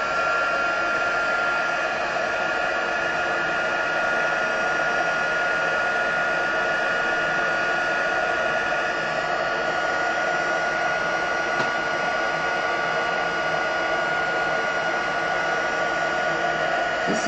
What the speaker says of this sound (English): I've got my heat tool here.